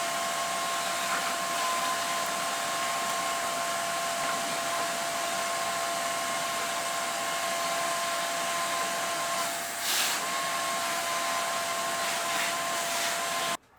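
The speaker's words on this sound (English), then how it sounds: "Let's vacuum the machine." A vacuum cleaner runs steadily while cleaning out a Pentium 4 computer, a loud close whooshing roar with a steady whine that wavers briefly as the nozzle shifts and then cuts off abruptly at the end.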